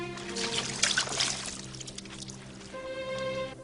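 Water poured out and wasted, a steady splashing trickle of liquid that is louder at first and then eases, with a constant low background hum and no talk.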